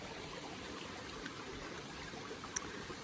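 Thayer Brook, a Connecticut stream beside a mountain trail, flows with a soft, even rushing wash, steady and fairly distant with no voices.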